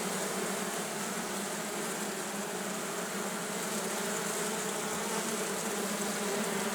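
A dense, steady buzz of many hungry honeybees at an apiary hive fills the air continuously, loud and close, with no pauses or voices.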